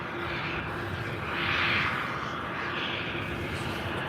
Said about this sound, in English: 787-9 Dreamliner now pushing back from the north side of Tom Bradley.